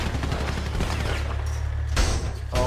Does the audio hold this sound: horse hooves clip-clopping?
no